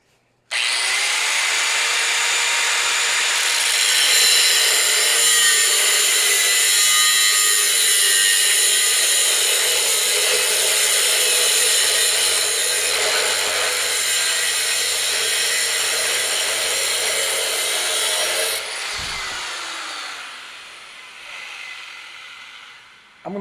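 A carbide-bladed power saw cuts through a fabricated metal part for an up-down power feed head, a loud steady whining grind that runs unbroken for about eighteen seconds, then stops abruptly and winds down.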